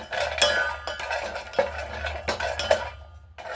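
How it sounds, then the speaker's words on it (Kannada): Ingredients for laddu being roasted and stirred in a pan, giving a steady close scraping and shuffling with repeated light metallic clinks and knocks against the pan, with no voices. "ರೋಸ್ಟ್ ಮಾಡ್ತಾ ಇದ್ದೀನಿ"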